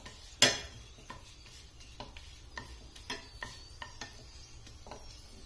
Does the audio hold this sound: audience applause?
no